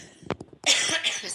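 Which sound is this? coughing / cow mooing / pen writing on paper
coughing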